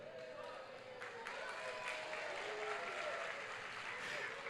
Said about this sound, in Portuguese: Vocês estão aplaudindo porque não tinham ouvido?